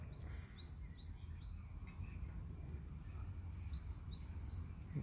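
Birds chirp in quick bright bursts, clustered at the start and again near the end, over a low rumbling outdoor background.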